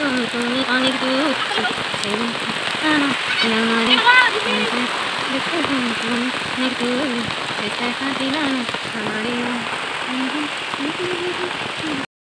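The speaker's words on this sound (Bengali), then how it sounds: "দেখো বৃষ্টি হচ্ছে আর আমি বৃষ্টিতে" Steady rain pours down outdoors, a dense, continuous hiss of drops on surfaces, while a voice sings or hums melodic tones over it close by.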